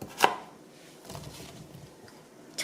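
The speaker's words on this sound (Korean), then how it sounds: "청양고추를 썰어 보겠습니다" A knife slicing Cheongyang chili peppers on a cutting board while making kimchi: two sharp, distinct chops about two seconds apart, separated by quiet kitchen background.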